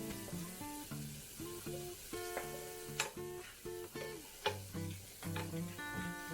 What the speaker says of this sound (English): your butter, your garlic, and you're gonna mix that on a medium heat